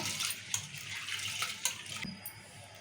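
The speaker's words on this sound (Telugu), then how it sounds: "నీరు పోసి ఇట్లా మంచిగా కడుక్కోవాలి" Water sloshing and splashing in a bowl as pigeon pea lentils (toor dal) are swished and rinsed, with a few sharp clinks, fairly quiet with no talking.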